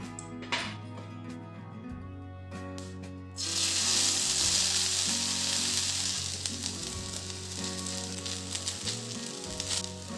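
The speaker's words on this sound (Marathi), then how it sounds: "आपण आता दुसरी पण फेणी टाकून घेऊ तुपात" Sweet potato pheni drops into hot ghee and bursts into a sharp, bright sizzle after a quieter opening, then keeps frying steadily with small crackles and faint utensil sounds.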